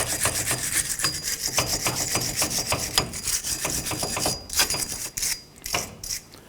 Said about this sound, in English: Use your bristle brush. Go ahead and go around the face of this axle hub face and clean this up